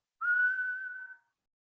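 A person whistles a single sustained note that slides slightly as it holds for about a second, clear and close against silence, imitating the sound of a whistle.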